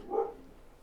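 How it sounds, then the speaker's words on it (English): A dog barks once, muffled and somewhat distant as if through a wall, a single short burst followed by a faint low background. "If he was in here, that barking would have been so much more louder than it actually is."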